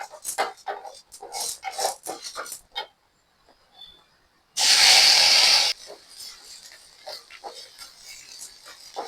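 Tomatoes drop into a hot pan of fried chana dal, urad dal and onion with a sudden loud sizzling hiss lasting about a second, preceded and followed by quieter clatter and stirring sounds while making coriander-mint chutney.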